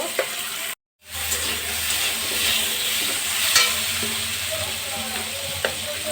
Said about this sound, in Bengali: আলুটা দিয়ে খানিকটা নাড়তে থাকবো